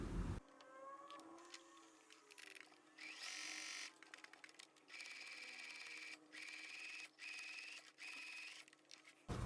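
A sewing machine stitches fabric flipper pieces for a turtle toy in several bursts, a whirring motor with a fast needle clatter, stopping and restarting in short runs, close and clear with no talking.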